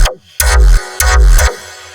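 A vocoded synth sound with its modulator bands pitch-shifted individually, heard as a few loud stabs with sharp starts and decaying tails, cut by short gaps, up close with no talking.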